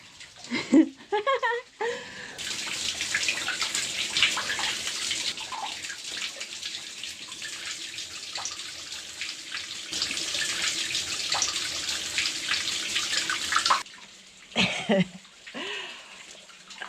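Spring water flows out from between rocks on off-grid land in a steady splashing trickle for about ten seconds, close to the microphone. A cough and brief voices come just before and after.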